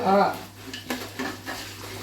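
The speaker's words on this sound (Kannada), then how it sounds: "ಈಗ ನೋಡಿ ಎಲ್ಲ ಚೆನ್ನಾಗಿ ಫ್ರೈ ಆಗತೈತ್ರಿ" Spices and chilies frying in a pan with turmeric for a paper poha (avalakki) tempering, heard as a soft steady sizzle under scraping stirs and a few light metal clinks of a spoon against the pan.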